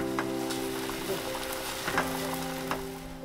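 Perilla oil sizzling in a pot at home, a steady soft crackle with a few brief stirring clicks and a low background hum.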